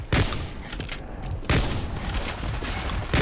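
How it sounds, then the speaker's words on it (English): Remington 870 MCS shotgun blasts in a zombie shooter game, two loud booming shots about a second and a half apart, each trailing into dense gunfire and chaotic action noise. "I'm guessing this is the shotgun"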